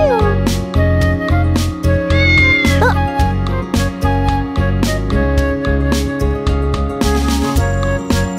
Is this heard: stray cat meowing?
yes